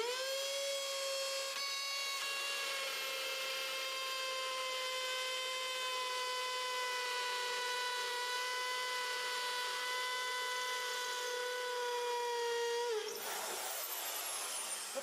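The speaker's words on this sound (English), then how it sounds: "You need a hammer drill." A hammer drill on hammer mode, with a worn bit, bores into the corner of a wall during a studio build, giving a steady high whine for about thirteen seconds before it stops abruptly.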